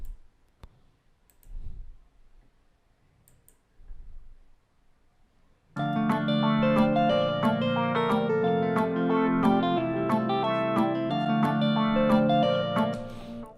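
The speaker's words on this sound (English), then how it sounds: "So all the instruments together, this is what they sound like without the percussion." Afrobeats instrument arrangement playing together without percussion: several seconds of near quiet with faint soft thumps and clicks, then a dense, steady layered blend of melodic parts enters and continues loudly to the end.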